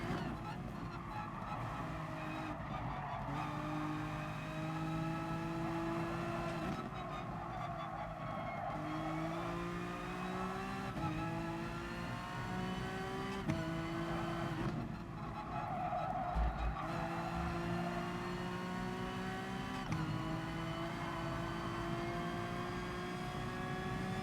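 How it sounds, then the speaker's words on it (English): Race car tires squealing on track in GT Sport, long wailing screeches that rise and fall over a steady engine drone, repeating through the corners with gaps between. "You can just hear the tires dying on this track."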